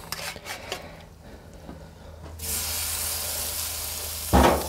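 Bacon frying in its own rendered fat in a pan, a steady hiss and crackle that swells louder partway through, with a brief louder clatter near the end and no talking.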